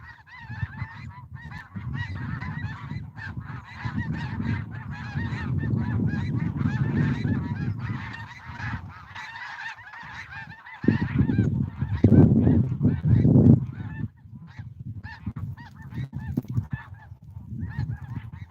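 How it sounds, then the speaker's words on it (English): A flock of snow geese honking as they fly over, a steady chorus of calls that grows louder and nearer for a few seconds and then thins out again. "Here comes the snow geese."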